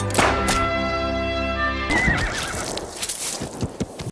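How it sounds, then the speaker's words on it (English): Horse whinnying loudly in a scene from Django Unchained, a long shrill neigh followed by snorting, shuffling and hoof sounds. "Big Daddy on his white horse."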